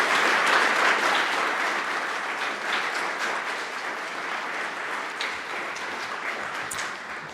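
A conference audience gives sustained applause at a closing session, dense steady clapping from many hands that holds strong throughout and tapers only slightly toward the end, with no talking over it.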